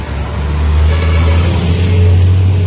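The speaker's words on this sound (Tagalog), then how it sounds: "Ali, may malaking truck din." A large truck rumbles past on a city street at midday, its heavy low engine drone building and holding loud and close for the whole stretch, with no talk over it.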